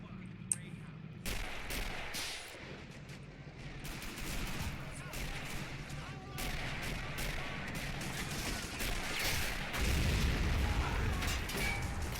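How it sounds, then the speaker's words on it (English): A truck explodes amid gunfire in a war video game's D-Day style beach assault, with dense, continuous bursts of shots and booms, loud and close throughout. "Yeah. Big old truck explosion."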